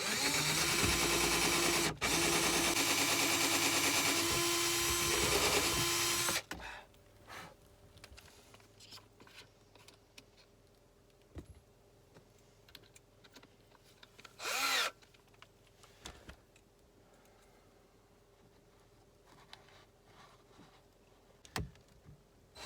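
A power drill bores a hole in fiberglass, a loud, steady whine lasting several seconds before cutting off, followed by quiet rustling, small knocks and a brief burst of noise.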